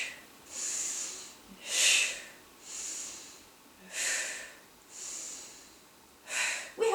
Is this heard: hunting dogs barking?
no